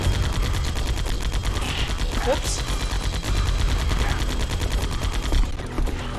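Rapid machine gun fire in the video game Metal Gear Solid: The Twin Snakes on GameCube rattles steadily throughout, dense and loud, with a brief spoken exclamation partway through.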